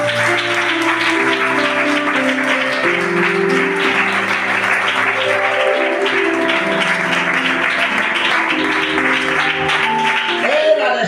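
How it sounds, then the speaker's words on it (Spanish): Church congregation clapping along steadily through a service, the rhythmic claps blended with loud music and voices that fill the room throughout. "Dale las palmas a Dios en esta tarde."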